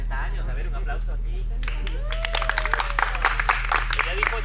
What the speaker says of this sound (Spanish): a ver, un aplauso aquí.